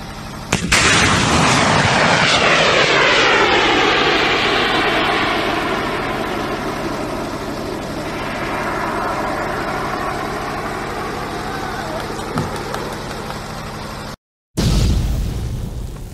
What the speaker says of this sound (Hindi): ये फुटेज है भारत की third generation anti tank guided missile नाग के सफल परीक्षण की।